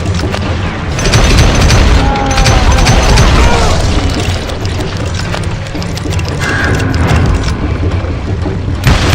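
Dynamite blasts go off in the Western shooter game Call of Juarez Gunslinger, loud booming explosions with rumbling debris and scattered gunfire, one after another over several seconds.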